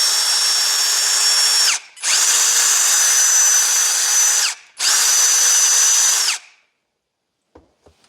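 A Ryobi R18DDBL cordless drill whines loudly at a low speed setting in three steady bursts of about two seconds each, with brief pauses between them. A few faint clicks follow once it stops.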